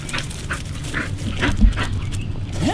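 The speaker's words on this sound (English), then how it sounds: "He's a 3-year-old bull terrier." A three-year-old bull terrier pants and whimpers close by, with short breathy bursts and soft whining cries repeating unevenly throughout.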